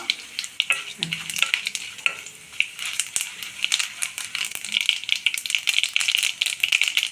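Chana dal and urad dal frying in hot oil, a steady close crackle and sizzle with stirring rattles and scrapes throughout, no voices.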